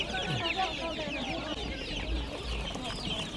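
Chickens cluck and squawk in an overlapping, busy chatter at the Beruniy poultry market, close and continuous, with low background rumble and murmured voices underneath.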